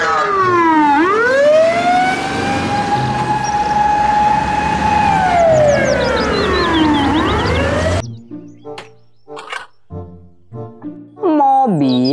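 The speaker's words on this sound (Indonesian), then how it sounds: "mobil truk pemadam kebakaran" Toy fire truck siren wails loudly in long rising and falling sweeps for about eight seconds, then stops, leaving short bursts of other toy sounds and a brief returning tone.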